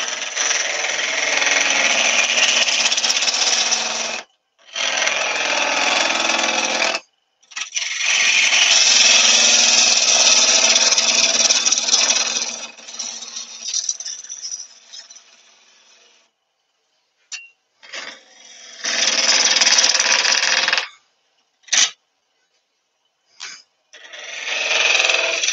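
Wood lathe turning a burr yew vase with a spindle gouge, giving loud, broad scraping and cutting bursts that stop and start in several long runs separated by brief pauses.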